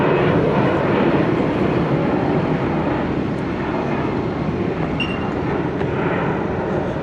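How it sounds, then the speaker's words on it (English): A light aircraft takes off from a grass airfield, its engine a steady, loud broadband roar that holds constant throughout with no voices. "Somebody taking off this morning."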